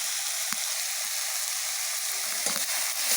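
Moringa (drumstick) flowers frying in a pan, a steady bright sizzle with a few soft stirring taps and scrapes, heard up close with no voices.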